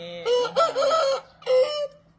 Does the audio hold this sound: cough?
no